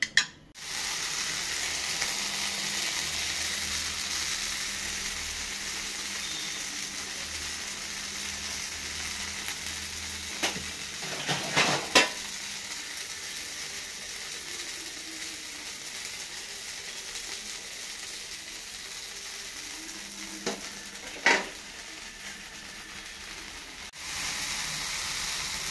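Uttapam made from idli batter fries on a pan as a faint, steady hiss that runs nearly the whole time, broken by a couple of short clattering scrapes partway through and a sharp knock at the start.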